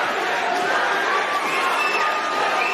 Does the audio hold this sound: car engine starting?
no